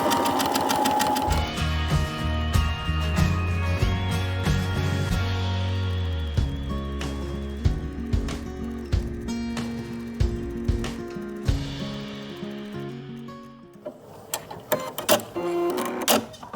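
A sewing machine stitches an automatic buttonhole with a buttonhole foot, a fast mechanical whir with rhythmic needle clatter. It slows into separate clunks and taps, then speeds up again near the end, close and loud.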